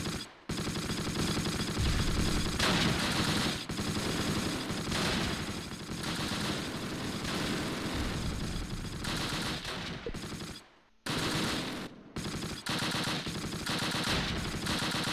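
Gunfire in the WWII strategy game Close Combat rages as a dense, continuous roar of overlapping shots and machine-gun bursts, loud and sustained, broken by a couple of brief gaps near the end.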